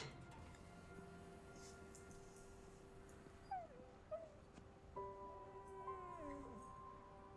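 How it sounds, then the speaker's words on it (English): A dog whimpers in a scene from the TV drama Supernatural: a few faint, high rising and falling whines come in the second half, quiet under a steady background hum and music. "Is that a dog?"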